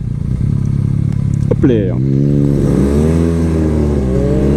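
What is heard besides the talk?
BMW R nineT Pure 2022 motorcycle engine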